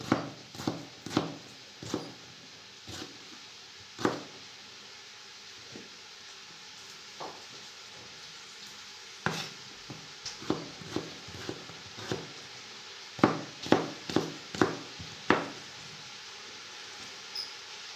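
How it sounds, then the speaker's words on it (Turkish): Irregular knife taps on a cutting board while chopping tomatoes, sharp close chops in uneven bursts with short pauses between runs. "Domateslerimizi de doğrayalım."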